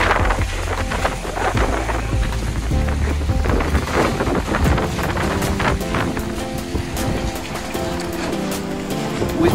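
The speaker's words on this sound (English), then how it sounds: "We thought we cannot hear the thunder, but we're so lucky." Thunder rolls over Acadia National Park in Maine, a loud, continuous rumble that swells and fades across the whole stretch, mixed with a steady wash like surf or wind and no talking.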